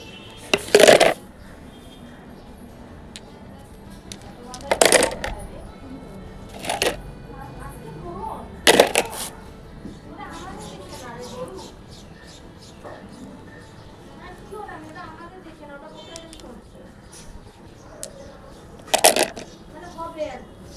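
Small stones of mixed sizes clatter as they are dropped into a bowl and poured out by hand, giving a few sharp bursts of rattling with quieter gaps between, while a person speaks softly throughout.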